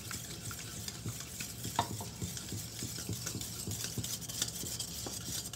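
A spoon stirs egg and milk batter for a soft pandan sponge cake in a bowl, giving continuous wet scraping and sloshing with irregular soft clinks against the bowl and no voices.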